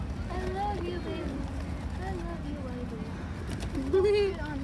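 A pet pigeon cooing a few soft, low coos close by, heard under a person's voice in an indoor room with a faint background rumble.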